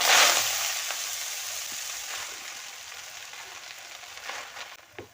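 Susni saak leafy greens sizzle loudly as they hit hot oil, the crackling hiss strongest at first and then settling into a steady, quieter fry.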